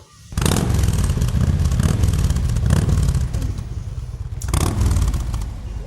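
Motorcycle gang revving their engines in a theatre sound effect: loud roaring engines that start abruptly, hold a rough, clattering drone, dip, then surge again.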